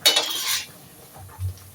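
A spoon stirs chicken curry with coconut milk in a pot, making a quick metallic scrape and clatter that fades into near quiet.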